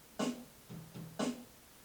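Drum beat audio example of kick and snare, five quick hits in a short pattern, dry and close with no voices.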